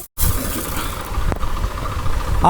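A tractor running with a mounted automatic sprayer fan, a steady close mechanical drone and rumble that starts abruptly after a brief silence, with a short sharp click midway.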